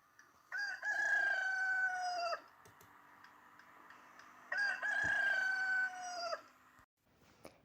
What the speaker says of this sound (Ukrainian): Вірно, дітки, це півник.